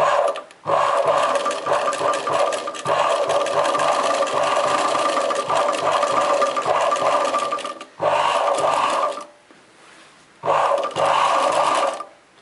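A domestic sewing machine stitches a mirror-work embroidery design on a chudidar neckline, running in long steady bursts with a rapid mechanical rhythm, stopping briefly twice near the end before resuming.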